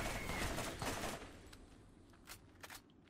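Gunfire from shooting an enemy in the video game Borderlands: a dense burst of rapid shots up close in the first second and a half, then a few sharper scattered reports trailing off quieter.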